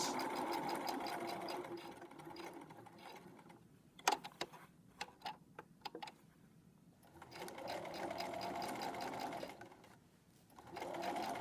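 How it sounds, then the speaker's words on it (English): Sewing machine stitching across the bottom of a fabric pocket at an eighth-inch seam, a steady close mechanical whir that pauses midway for a few clicks and taps before running again, with no talking. "So I'm sewing across the bottom at 1/8 of an inch."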